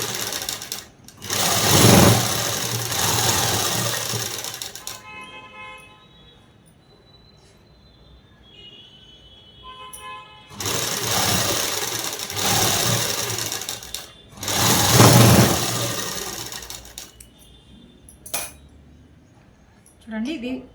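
A sewing machine stitches a collar neck blouse in two loud, sustained runs, each about three seconds long and separated by quieter gaps with faint handling sounds; a voice speaks softly in the pauses.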